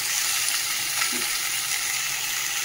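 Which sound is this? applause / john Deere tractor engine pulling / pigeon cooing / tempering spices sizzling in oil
tempering spices sizzling in oil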